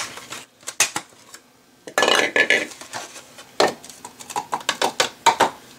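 Dishes and cutlery clatter and clink in bursts as a dishwasher is loaded, close and sharp, with quiet pauses between the rattling handfuls and no talking.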